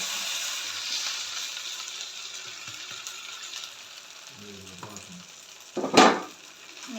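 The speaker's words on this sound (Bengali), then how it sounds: "এইবার আমি এর মধ্যে পাস্তাগুলো ছেড়ে দিচ্ছি" Pasta fries with onion and chilies in oil, a soft steady sizzle with a few stirring knocks and a louder burst of hiss near the end, no talking.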